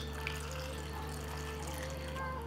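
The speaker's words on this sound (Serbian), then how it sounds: "I jagode ću preliti sa vodom." Water from a tap pours over a kilogram of strawberries in a pot, a faint steady running flow over a low background hum.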